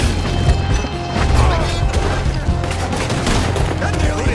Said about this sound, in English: David, I'll have to shoot.